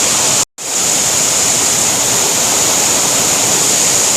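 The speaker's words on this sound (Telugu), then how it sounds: "చాలా బాగుంది వాటర్ ఫాల్ అయితే" Waterfall near Kuntala Falls in Telangana, a constant loud rushing roar of falling water heard close up, broken by a brief dropout of sound near the start.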